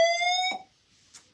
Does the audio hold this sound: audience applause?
no